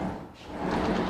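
A pocket door slides along its track inside a preowned model home, giving a steady rolling rumble that dips briefly and then grows a little louder as the panel moves, close by with no talk.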